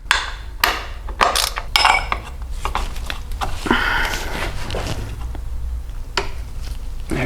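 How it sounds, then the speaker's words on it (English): A hand ratchet works on stuck swing arm bolts of a Yamaha R7 motorcycle in a cramped spot, giving close, loud clunks and scraping metal bursts against a steady background hum. "I can get a ratchet in there, but it's gonna be kind of difficult to crank at it"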